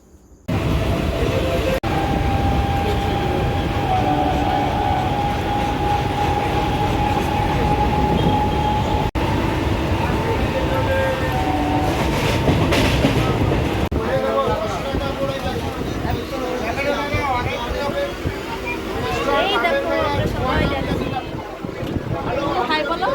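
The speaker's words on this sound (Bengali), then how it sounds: "অনেক বড় ট্রেন" A long train rolls by close and loud, its steady rumble and clacking wheels continuing for a long stretch while voices chatter over it.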